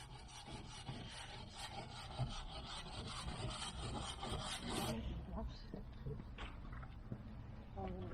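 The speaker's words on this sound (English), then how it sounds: "Rub the rust down, treat it." Abrasive rubbing and scraping on the steel hull of a narrowboat to take off rust and excess paint, a continuous rough close rasping in quick strokes, easing off partway through, with faint voices in the background.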